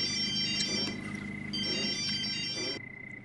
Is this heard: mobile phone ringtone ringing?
yes